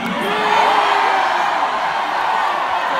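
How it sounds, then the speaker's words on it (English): A concert crowd at a show yells and cheers, a dense, steady wash of many voices with a few individual shouts rising above it, loud and continuous. "What song should we play? Just scream it out."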